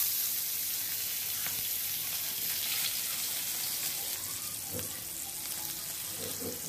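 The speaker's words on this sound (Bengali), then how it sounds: "সর্ষের তেল গরম হয়ে গেছে। এবার আমি মাছগুলোকে এক এক করে এর মধ্যে দিয়ে দেব।" Bata fish sliding into hot mustard oil in a pan, giving a steady, close broadband sizzle with a few soft clinks and splashes near the end.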